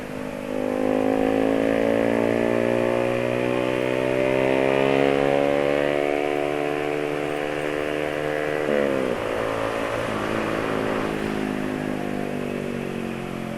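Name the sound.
motorcycle engine accelerating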